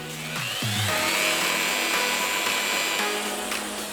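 Placo GDX joint compound is mixed with a power drill and paddle, making a loud, continuous whirring drone that holds steady after a brief change in pitch near the start.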